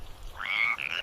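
Frogs croak in a short burst, a single rising, rasping call close by and moderately loud over a faint low rumble, then a second brief call right after.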